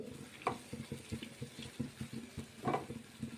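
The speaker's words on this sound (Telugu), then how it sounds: "1 గ్లాస్ వాటర్ వేసుకుందామండి." Water poured into a pan of spiny gourd curry cooked in oil, with splashing bursts over a soft sizzle and a few scattered clinks, close by and fairly quiet.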